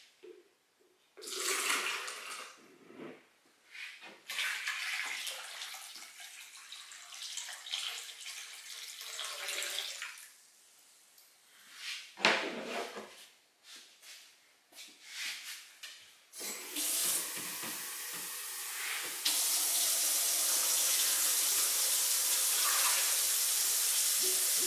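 Pectic-enzyme fermented seeds are rinsed under a running tap, with water gushing and splashing in uneven bursts and pauses before settling into a steady, loud stream.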